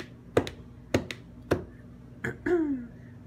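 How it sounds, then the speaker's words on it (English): A dog named Maya claps, giving three sharp, close taps at a steady spacing, followed by a short scrape and a brief vocal whine in a quiet room. "She knows how to clap."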